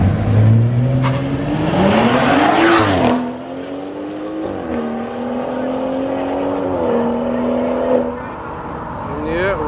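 A BMW M340i and a Jeep Trackhawk street racing at night in Mexico, engines revving hard and climbing through gear shifts. One loud, close surge is followed by a drop and renewed acceleration, with tire noise and a voice over it.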